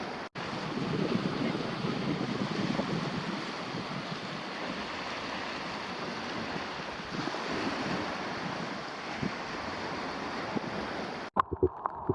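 Sea waves wash onto a white sand beach at Bamboo Island in Thailand, where many boats are moored. The surf rushes steadily and continuously, mixed with gusty wind buffeting the microphone.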